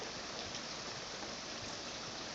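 Heavy rain with large drops pours steadily in mountain flooding conditions as it turns to slush, a dense, loud, unbroken hiss with no pauses or voices.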